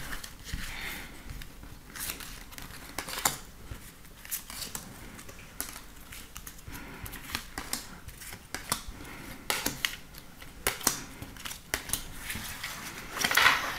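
Tarot cards are shuffled and drawn in a quiet room, giving a steady run of soft, close papery riffles, slaps and flicks of varying loudness, with no talk.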